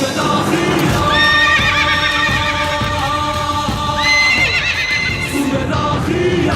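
A horse neighs loudly and repeatedly, its whinnies rising and falling over the thud of galloping hooves, close and forceful.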